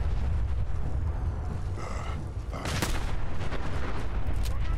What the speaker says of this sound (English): I shoot fire gun ammo. It made him just frickin' explode.